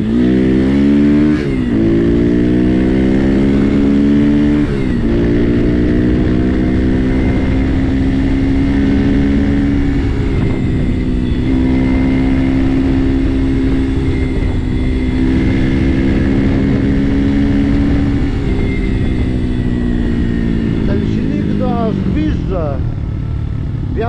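A Polish RFZ 140 motorcycle starting for the first time, its small engine idling and revving loud and close for the whole stretch, with pitch rising and falling as it is blipped and shifted, and someone talking over it.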